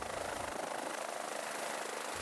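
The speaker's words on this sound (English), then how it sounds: "When landing at scene calls, the helicopter will often be landed perpendicular to the road." A BK 117 helicopter landing at a roadside scene, its steady broadband rotor and turbine roar loud and continuous throughout, with no voices.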